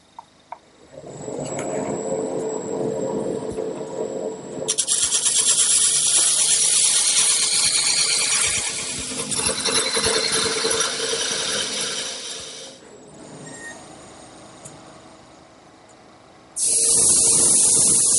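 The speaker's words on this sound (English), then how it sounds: "by using the calipers and this parting tool, I can start the turning" A wood lathe turns a piece being cut with a parting tool, long loud spells of steady scraping and hissing over the motor's hum that stop and restart, ending in a sudden burst.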